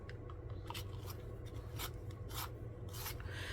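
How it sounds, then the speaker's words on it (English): A Prismacolor colored pencil is sharpened in quick, repeated scraping bursts of rubbing, close and fairly quiet, with no talking. "I'm going to sharpen this again."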